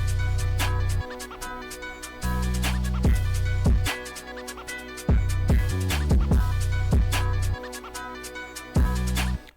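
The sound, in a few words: NY drill beat with 808 pattern playing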